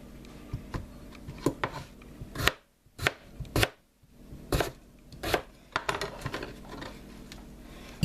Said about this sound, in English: now while I'm at the chopping board, I'm going to go ahead and cut up my potatoes